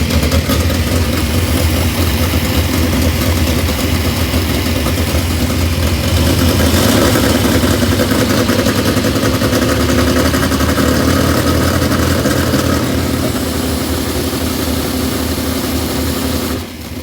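Race car engine idling roughly with a carburetor fault, its front nozzles dumping fuel; a loud, steady, close-up rumble with uneven pulsing throughout, easing off slightly at the end.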